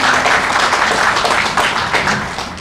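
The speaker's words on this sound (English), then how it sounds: "can we give her a round of applause?" An audience at a county event claps warmly, a loud burst of many hands that gradually tapers off toward the end.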